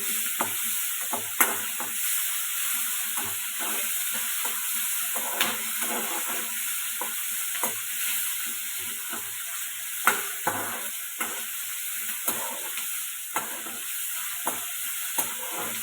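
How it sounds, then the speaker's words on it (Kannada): A steady hiss of ingredients frying in oil runs throughout, broken by regular soft taps and scrapes of stirring at a roughly even pace, close by and without speech. "ಇದಿಷ್ಟನ್ನು ಎಣ್ಣೆ ಚೆನ್ನಾಗಿ ಹುರ್ಕೊಳ್ಳೋಣ. ಹುರ್ಕೊತಾ ಇದ್ದೀನಿ."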